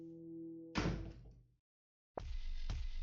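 Door opening in the horror game Awakening Sarah: after a steady low hum, a loud thud and creak break in, then a short gap of silence and a second close heavy bang with a rattling follow-up.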